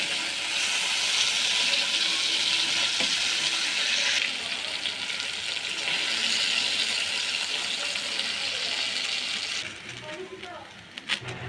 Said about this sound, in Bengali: ভেজে বেগুনটাও নামিয়ে নেব